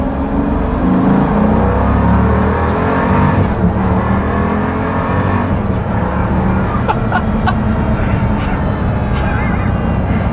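A Pagani Huayra supercar engine roars loudly and continuously as it accelerates hard along a road, a dense sustained rush of engine and wind noise with a rising pitch sweep and no speech.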